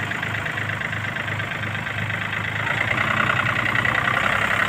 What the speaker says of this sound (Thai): ตัวนี้จะเป็นเครื่องยนต์ไดเล็กนะครับ เครื่องยนต์ 3 สูบนะครับ